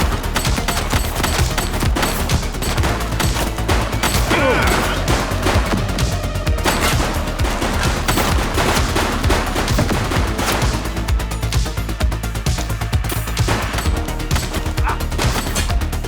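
Sustained gunfire from a police shootout in the game The Precinct, rapid overlapping shots and bursts running continuously with crashes mixed in, loud and dense throughout.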